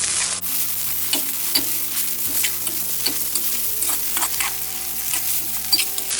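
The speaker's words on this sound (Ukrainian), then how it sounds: "Добавляємо одразу секунд 20 цибулю, щоб наш часник не встиг згоріти." Chopped onion and garlic fry in a pan for a Chinese chicken fried noodle dish, a steady close sizzle broken by repeated scraping stirs and small crackles with no one talking.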